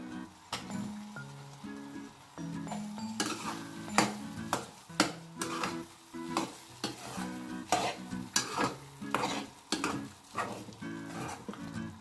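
Pointed gourd pieces going into a cashew-paste curry in a pan, stirred with a series of sharp, rhythmic spoon knocks and scrapes over a soft simmering sizzle, close and without speech.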